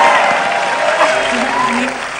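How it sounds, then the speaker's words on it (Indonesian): A studio audience at an Indonesian TV talk show claps for guest Adit Tiagumai, a loud, dense burst of applause that fades slightly toward the end, with a host's voice and faint tones mixed in. "Tepuk tangan untuk Adit Tiagumai"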